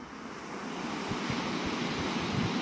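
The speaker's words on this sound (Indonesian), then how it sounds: "tambah malam ombaknya lumayan kenceng" Strong ocean waves break and wash along a beach in Hualien at night, producing a steady, broad surf roar with soft low thumps, fairly distant and moderately loud, with no one talking.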